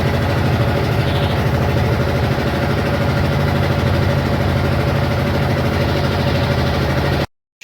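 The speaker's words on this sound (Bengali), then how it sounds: "প্রচুর পরিমাণে কিন্তু মাছ ধরার ট্রলার সুন্দরবনের ভিতরে ঢুকছে মাছ ধরার জন্য" A fishing trawler's engine runs steadily on a Sundarbans river, a loud, close, continuous low diesel drone with constant vibration that cuts off abruptly at the end.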